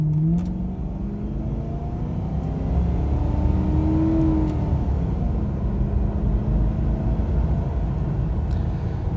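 Ford Crown Victoria with a 4.6 liter V8 from the 1992-1997 generation, the engine revving in a steady, continuous drone that rises and falls in pitch, moderately loud with no talking.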